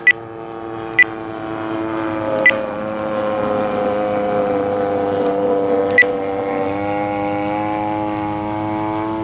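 A Seagull Models Gilmore Red Lion RC plane with a 74-inch wingspan, powered by a Stinger 35cc gas engine, drones steadily overhead with a rising and falling pitch as it flies, broken by a few sharp clicks.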